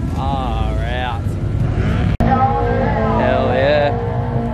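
A 440 HP turbocharged Ford Falcon roars through roll racing runs, its engine sweeping up and down in pitch through gear changes, loud and close, with a brief dropout midway.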